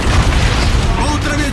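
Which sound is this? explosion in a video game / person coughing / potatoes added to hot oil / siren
explosion in a video game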